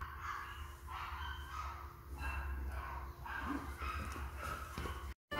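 Children imitating barking dogs, a series of rhythmic bark-like yelps at moderate distance, repeated in short bursts across several seconds.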